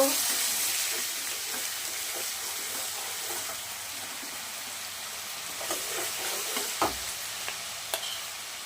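Onion paste frying in hot oil in a pan for a curd katla fish recipe, a steady soft sizzle with light stirring scrapes and a few clinks near the end, heard alone.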